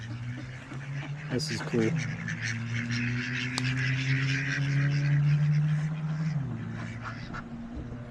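Ducks quacking outdoors in several short, close bursts, mixed with a voice talking and a steady low hum underneath.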